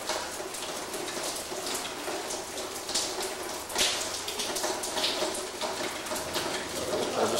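Steady rain falls and patters on nearby surfaces, a dense continuous hiss with scattered louder drops, and nobody speaks.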